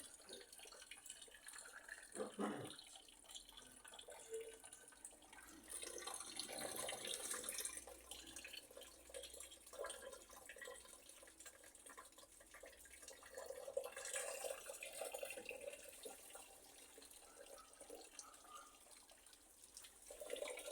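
Water runs steadily from bathroom, kitchen and laundry taps opened in a house during drain and sewer-chamber unclogging work, a faint continuous hiss and splash with no talk.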